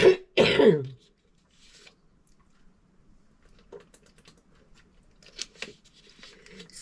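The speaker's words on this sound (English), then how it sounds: "it causes me to start coughing." A person coughs and clears their throat in two sharp, loud bursts at the start, followed by quiet shuffling and faint clicks in an otherwise still room.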